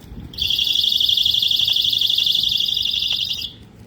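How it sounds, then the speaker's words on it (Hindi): A women's personal safety alarm, a small keychain device for a bag or hand, lets out a loud, steady, piercing electronic shriek for about three seconds before cutting off abruptly. "लेडीज के लिए अलार्म सिस्टम निकला है जी"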